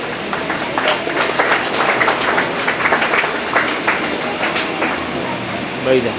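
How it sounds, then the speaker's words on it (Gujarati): Parents in a school audience clap in a sustained burst of applause for students at a school programme, a dense patter of hands filling the room at an even level. "વાલીઓ તાળીથી બિરદાવે"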